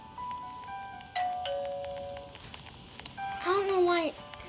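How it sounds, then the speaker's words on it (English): A doorbell rings in a home's spare room being readied as a guest bedroom, sounding several sustained chime tones at moderate loudness, followed by a brief gliding tone near the end. "I don't know why someone's ringing the bell."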